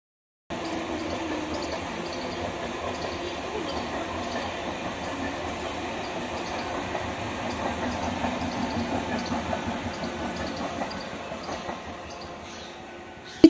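A train rolls past a rooftop on a rural morning, a long, steady rumble with faint rhythmic clatter that builds gradually before ending in a sharp knock.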